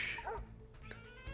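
A cartoon dog barks in the video game Layton's Mystery Journey, a few short yips and woofs over a faint musical background, quiet and brief.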